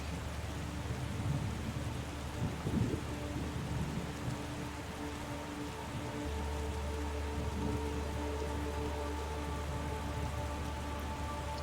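Thunder and lightning strike amid rain in the video game The Gardens Between, with a soft, steady rain hiss and a low rumbling roll of thunder under a constant faint background hum.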